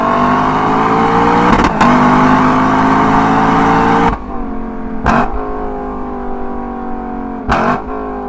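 A 2021 Lexus LC500 V8 revs hard and loud close by, a sustained roar of about four seconds that breaks off, followed by two shorter sharp blips of the throttle.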